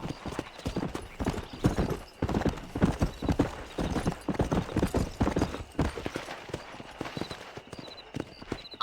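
A horse gallops in the Red Dead Redemption video game, its rapid, rhythmic hoofbeats pounding close and steady, with a brief whinny and light tack jingling.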